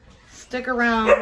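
Dogs bark and whine behind a voice in a home, with a short burst of yelping overlapping the speech toward the end.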